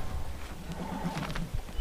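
In an Assassin's Creed video game, a horse gives a short whinny over the clatter of its hooves, which sound close and fairly loud.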